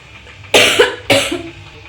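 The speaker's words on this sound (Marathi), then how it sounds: "परत खोकला लागला" Two sharp, close coughs about half a second apart, fairly loud, with a short throat rasp trailing after each and no talk.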